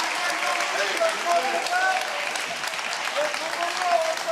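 A studio audience breaks into steady applause, a dense wash of clapping that holds at an even level throughout, with a few voices calling out faintly underneath.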